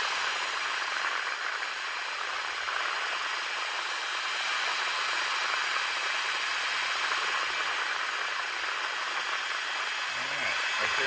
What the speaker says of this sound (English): Just keep putting heat to it until that solder in there melts.